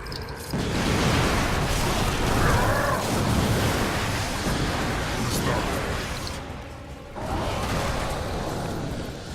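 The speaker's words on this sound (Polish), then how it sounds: "Wybuchu, wybuchu." A loud, sustained roaring blast of noise from an explosion in the game Darksiders rumbles on for several seconds, briefly dropping out before surging again.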